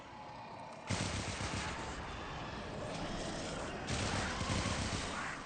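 Rapid automatic gunfire rattles in a video game, sounding as dense, continuous volleys that swell louder partway through.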